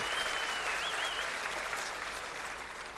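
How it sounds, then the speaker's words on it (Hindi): An audience at a political speech in Gopinath Gad claps steadily in a dense, sustained wash of applause, with a faint voice briefly audible through the crowd noise. "तीनों बेटियों का ताली बजा के स्वागत करें,"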